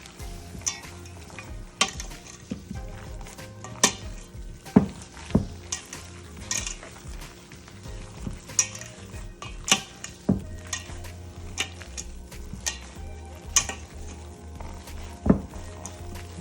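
Gloved hands squish and knead raw ground meat for meatloaf in a bowl, a steady wet squelching and slapping with repeated sharp smacks and occasional clinks, close and moderately loud, no talking.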